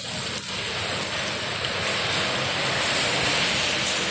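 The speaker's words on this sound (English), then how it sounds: "the rain is going crazy here." Heavy rain pours in a dense, constant hiss, a loud unbroken wash of falling water with no voices.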